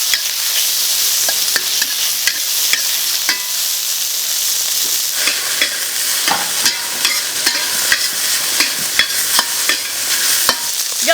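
Pork liver and ginger stir-fry in a hot pan with a constant loud sizzle, while a spatula scrapes and clacks against the metal in an irregular, busy rhythm, close up and with no talking.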